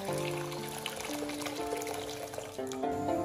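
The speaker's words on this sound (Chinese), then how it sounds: "然后往锅中倒入一些清水，" Clean water pours into a cooking pot for boiling dumplings, a steady splashing rush heard close by. Faint kitchen clatter sits underneath, and no one speaks.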